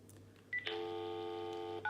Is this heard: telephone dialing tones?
yes